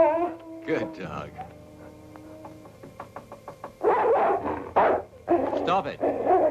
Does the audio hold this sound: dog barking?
yes